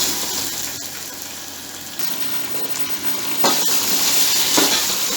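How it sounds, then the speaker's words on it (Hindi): Chicken meat and spices fry loudly in a pot for an egg biryani while being stirred, giving a continuous close sizzle broken by scraping stirs. "इन तमाम गोश्त को और इन चीज़ों को मैं अब अच्छी तरह भून लूँगा"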